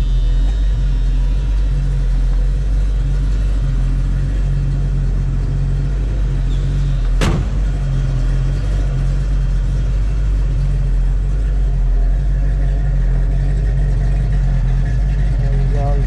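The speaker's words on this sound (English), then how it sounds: "You can hear that rumble of the 70s on this Mach 1." A 1970 Ford Mustang Mach 1 Fastback, M-Code with a 5-speed, idles with a loud, deep, steady rumble close by, broken once by a sharp click.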